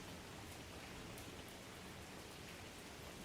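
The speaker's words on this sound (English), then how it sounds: "It's raining outside." Steady rain falls outside, a dense, unbroken patter of drops filling the whole stretch evenly at moderate loudness, with no talking.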